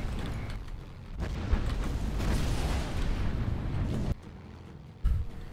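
Bombs explode in the naval combat video game Battlestations Pacific, a loud sustained roaring blast that cuts off abruptly and is followed by another sharp hit.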